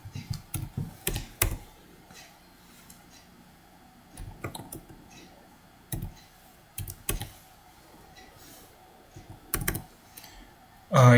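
A computer keyboard is typed on in short irregular bursts of clicky keystrokes separated by pauses, close and fairly loud in a quiet room.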